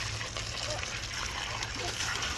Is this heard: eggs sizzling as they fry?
no